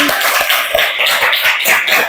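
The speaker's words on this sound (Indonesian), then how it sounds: "Iya, tepuk tangan." Children in a classroom clap their hands together in a steady rhythm, a dense group of overlapping claps heard loud and close throughout.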